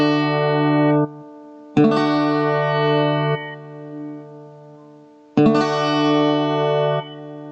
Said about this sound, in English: So I strum down